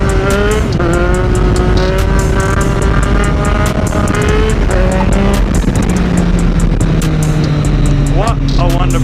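Street bike engine on a ride, loud and close, revving and shifting through gears with a steady roar and wind, while a rider speaks over it.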